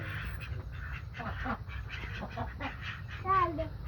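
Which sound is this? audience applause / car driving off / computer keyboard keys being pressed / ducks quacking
ducks quacking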